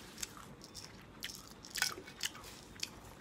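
Crispy dried peas from a crunchy vegetable snack are bitten and chewed close up, giving several sharp, brittle crunches spread unevenly over a few seconds against a quiet background.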